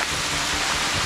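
Rain falls steadily beside the Bude Canal, a dense, even hiss of drops filling the scene for about a second with no voices.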